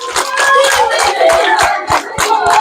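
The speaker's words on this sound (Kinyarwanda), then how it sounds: "Nawe mumuha amashyi." A school class in Rwanda claps for a student, a quick, rhythmic burst of many hands close by, with faint voices underneath.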